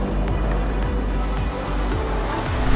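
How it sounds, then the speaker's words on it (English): An Audi Quattro accelerates hard, its engine giving a loud, steady, close-up drone with rising pitch sweeps as the car pulls forward, heard alone without talk. "This car actually does sound. It's the futuristic, dynamic sound that, you know, gives you a new impression of speed."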